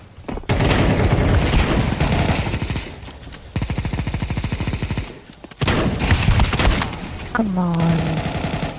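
Rapid bursts of friendly-fire gunfire from a teammate in a video game, loud and close, in several sustained volleys with brief gaps and a short voiced exclamation between them.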